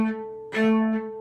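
A single martelé bow stroke on a string instrument, a sharp bite followed by a clear sustained pitch, with a note change midway, close and fairly soft.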